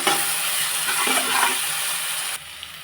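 Ginger garlic paste sautéing in a pan for brinjal kulambu, a dense close sizzle with stirring scrapes that cuts to quiet near the end.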